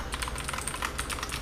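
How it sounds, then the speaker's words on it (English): Rapid typing on a Gigaware K28 mechanical keyboard with 87 keys, a quick irregular run of crisp, close key clicks with no voices. "And this is the mechanical keyboard. It's my first mechanical keyboard from Gigaware."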